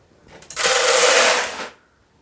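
A DTZ feed grinder spins up and roars steadily through its first grind of grain, a dense whirring rush that holds for about a second before cutting off abruptly, loud and close with no voices.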